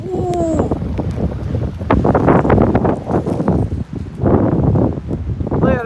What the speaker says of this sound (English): These winds are really gusting.